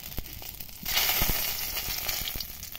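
Dry red chillies, lightly crushed whole garam masala and bay leaf hit hot oil in a kadai, bursting into a loud, steady sizzle after a few faint clicks, crackling on close by without a pause.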